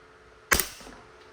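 A single sharp pop of a gas-powered airsoft pistol, a Double Bell John Wick 4 Pit Viper, firing nearby during a speed test, with a brief ringing tail fading into a quiet room.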